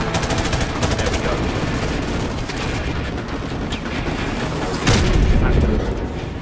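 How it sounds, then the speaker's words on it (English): In Call of Duty 4, dense gunfire rattles continuously before a heavy RPG blast thumps loudly near the end, with a voice talking amid the combat. "That RPG just shot me."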